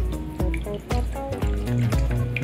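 Water poured into a pan to start mitarashi sauce for Japanese dango, a steady splashing trickle with several bursts of pouring, close and alone without talk.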